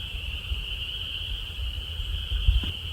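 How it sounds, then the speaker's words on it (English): A chorus of frogs croaks in the background on a cold day of about 30 degrees, a steady high-pitched trilling that carries on unbroken, with faint low bumps underneath. "that sounds like a bunch of frogs"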